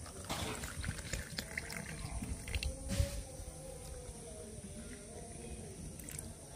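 Cold water pours steadily into a roasted-mango drink (aam pora shorbot) seasoned with cumin and black pepper powder, a continuous close splashing and trickling that runs without pause.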